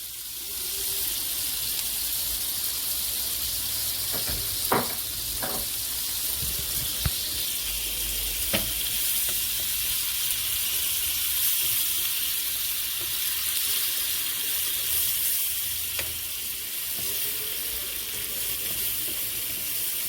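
Half a yellow onion and a bunch of scallions sauté in a pot on high heat, with a continuous bright sizzle broken by a few sharp clicks and knocks from stirring.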